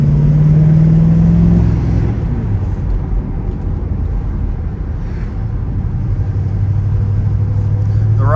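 A 1967 Pontiac GTO's 400ci V8 with a three-speed automatic revs as it downshifts by the pedal, then settles into a loud, steady deep rumble while driving.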